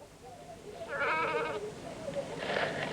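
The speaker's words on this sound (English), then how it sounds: "So these are the Lockton sheep." Loaghtan sheep on the Isle of Man bleat twice nearby, a long wavering call followed by a shorter one, over faint outdoor background noise.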